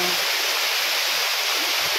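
Engcanto Falls in Bikal, Libmanan, Camarines Sur: a waterfall rushing in a steady, loud, broadband roar of flowing water, close and unbroken from start to finish.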